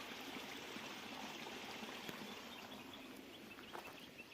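Water trickles and runs out of a quarry pond, a faint, steady broadband wash heard from a distance with no talk, a few tiny splashes standing out.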